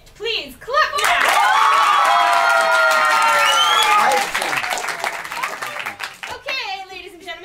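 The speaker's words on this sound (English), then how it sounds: "If it's worth a Hollywood forfeit, please clap now." Audience clapping at an English-language improv comedy show at a Paris improv festival, a burst of applause rising quickly and holding for a few seconds before thinning out, with voices talking around it.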